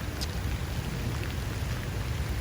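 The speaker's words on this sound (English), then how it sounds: "Started raining last night and continuing to rain into today" Steady rain falls on an outdoor plaza, a soft, continuous patter and hiss that stays even and faint throughout, with no voices.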